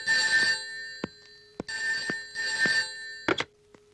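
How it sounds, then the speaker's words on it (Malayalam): A telephone bell rings in repeated bursts, two long trills followed by a shorter one, loud and close with brief silences between. "Phone phone."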